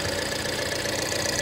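A 2014 Ford Fusion with low fuel rail pressure idles roughly, a steady close mechanical drone with slight uneven vibration and no talk.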